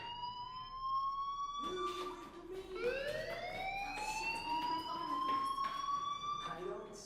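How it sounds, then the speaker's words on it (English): A fire alarm in the Life is Strange video game, a rising electronic siren wail that sweeps up and holds in a long loud tone, with some speech-like sound mixed under it. "do you hear that fire alarm?"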